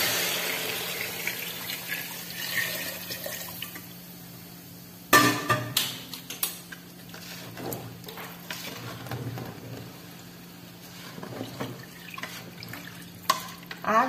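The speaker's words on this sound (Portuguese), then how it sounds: "eu vou adicionar essa água logo aqui." Warm water is poured from a container into a pot of rice being cooked for galinhada, a steady, fairly faint splash and trickle with occasional clinks and knocks of the pot, and no talk.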